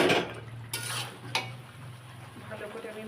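Chicken meat goes into a pot for homemade biryani, with a few sharp metallic clanks of utensil on pot followed by soft stirring and faint sizzling, quiet and close.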